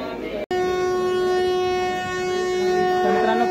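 Train at Purna Junction sounds a long, loud, steady horn blast with strong harmonics, starting after a brief break and holding for several seconds as it departs.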